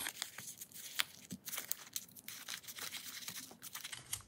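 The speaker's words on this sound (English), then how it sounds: "So let's crumple these up a little bit." Paper leaves being crumpled by hand for a craft page, a close, steady run of crinkling and tearing-like rustles with sharper crackles scattered throughout, no talking.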